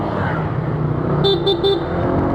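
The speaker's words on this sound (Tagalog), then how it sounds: "Busina ako na to" Three short car horn honks in quick succession over steady engine and road noise from inside a moving vehicle.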